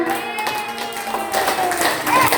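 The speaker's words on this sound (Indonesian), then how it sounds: "Angkat kedua tanganmu dan kita tepuk tangan di atas" Young children at a kindergarten Christmas celebration clap their hands above their heads, a loose, uneven patter of claps close by with a voice over it.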